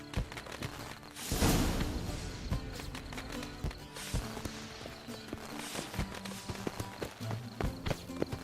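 Horse hooves clip-clopping in The Witcher 3: Wild Hunt video game, steady repeated hoof taps on hard ground running through the whole stretch, mixed with other game sounds and a brief loud burst early on.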